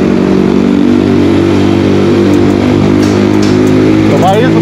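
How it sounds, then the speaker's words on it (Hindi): A motorcycle's loud exhaust note sits close by on a ride toward Kullu, a steady, throbbing engine drone that holds for several seconds with a slight rise near the end, with voices over it. "यहाँ पे एग्जॉस्ट नोट की आवाज़ भाई बहुत ही ज़्यादा अच्छी है"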